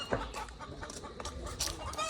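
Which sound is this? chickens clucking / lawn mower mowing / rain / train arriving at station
chickens clucking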